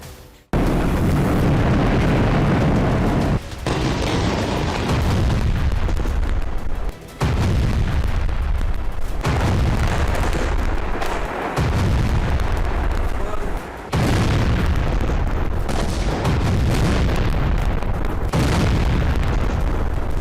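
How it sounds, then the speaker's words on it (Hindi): Bombing strikes near the Indonesian hospital in Gaza boom heavily in a war zone. Loud, repeated explosive blasts and deep rumbling follow one another every few seconds over a continuous roar. "गाजा में इंडोनेशियन अस्पताल के पास एक बार फिर बमबारी हुई।"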